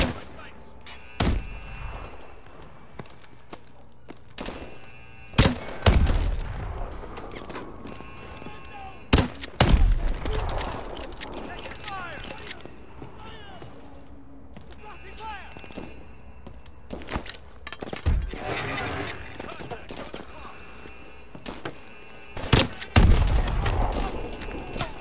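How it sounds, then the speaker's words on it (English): Scattered gunshots and bursts of gunfire in a Call of Duty: Advanced Warfare firefight, loud impacts at irregular intervals over a busy background, with a voice talking between the shots. "We're in the middle of a gunfight here."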